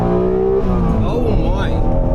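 1991 Honda NSX mid-mounted engine revving hard in first gear on a winding road, a loud rising engine note under excited talking from the driver, with a quick pitch sweep as the revs climb.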